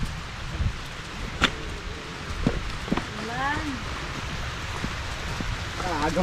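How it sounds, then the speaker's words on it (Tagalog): Heavy rain falls as a steady broadband hiss through a rural harvest morning, with voices and bird-like calls rising over it and brief knocks here and there. "Malakas ang ulan."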